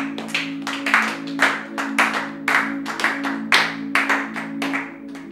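A church congregation claps in a steady rhythm during a Sunday service, loud and close, about two claps per second with acclaiming voices under the clapping.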